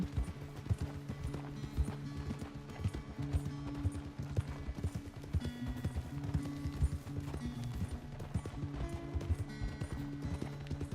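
Galloping horse hooves from the video game Red Dead Redemption 2, a steady rapid clip-clop running continuously and fairly loud throughout, over a low droning game soundtrack.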